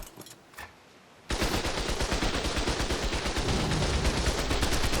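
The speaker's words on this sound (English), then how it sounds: "we're here with the minigun turret to actually test that a little bit further" Minigun turret in ARK: Survival Evolved opens fire after a quiet start, a rapid continuous stream of loud gunshots that keeps going to the end with no talking.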